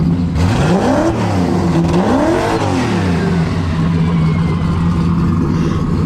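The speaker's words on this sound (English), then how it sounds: "gonna give it a little rev" A 2000-horsepower Foxbody Mustang coupe with a 98mm turbo revs loudly up and down in several sweeping blips over a rough, lumpy idle, close and continuous with no talk.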